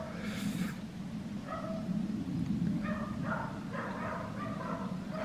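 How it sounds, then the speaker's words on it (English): Dogs barking in short yapping bursts on a quiet Somerset country lane, moderately near, over a steady low outdoor rumble with no talking. "Yeah, the dogs have seen him coming."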